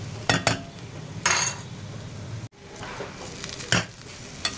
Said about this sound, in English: I just fry for about a minute or so. Just stir in between.